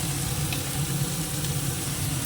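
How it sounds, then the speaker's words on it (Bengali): Fried onion and garlic paste sizzle in a pan with a soft, steady hiss over a low hum, close by and without voices. "সেটা ভাজা হতে থাকে পেঁয়াজটা ভাজা হয়ে গেছে দিয়ে দেবো রসুন বাটা এক চামচ"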